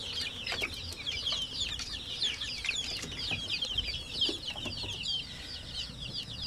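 Many native chickens and chicks in farm cages, a dense chorus of high chirping and clucking that continues steadily throughout at close range.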